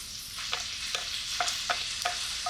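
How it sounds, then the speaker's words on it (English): Diced peeled tomato concassé stirred through a hot pan for a base sauce, with a soft ongoing sizzle and about six regular spoon scrapes, fairly quiet. "Now we add our tomato concasse, which is just tomatoes which have been peeled"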